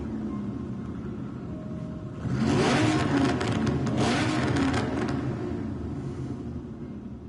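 A car engine in Gran Turismo 7 revs up sharply, holding a loud, rough mid-range roar for a few seconds before easing off over a steady idle rumble, with no talking.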